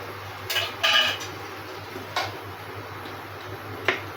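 Scrambled fried egg goes into a cooking pot with a few distinct metallic clinks and scrapes of a utensil against the pot, close and fairly loud, spaced irregularly over a low steady hum.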